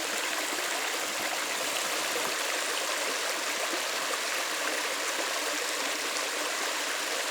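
A woodland stream at Fallville wildlife area runs over rocks in a steady, even rush of water that stays soft and unbroken throughout, with no voices.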